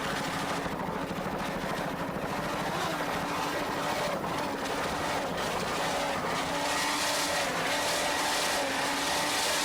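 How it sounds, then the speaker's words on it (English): Offshore powerboat race in 1993 with a boat driven by 900-horsepower Stotler engines and Mercruiser drives: a continuous loud, droning engine roar with a wavering pitch, heard steadily throughout without speech. "doing a fine job with those 900 horsepower Stotler engines. Let's listen."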